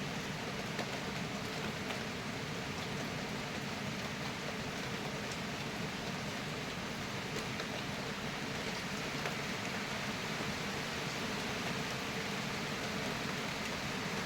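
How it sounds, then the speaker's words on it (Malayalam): Steady, even hiss of rain falling, constant and moderately close, with no voices over it. "നല്ല അടിപൊളി മഴ പെയ്യാണ് കേട്ടോ"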